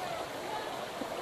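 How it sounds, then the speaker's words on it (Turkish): Water rushing steadily at the top of a waterfall on a nature walk at Hacıllı Göksu, a continuous broadband wash close by with no clear talk over it. "Şu an şelalenin üstüne çıktık. Burada bir şelale var."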